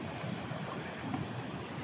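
A brief stretch of continuous sea surf, a soft broadband wash of waves with no voices.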